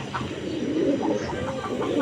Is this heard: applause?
no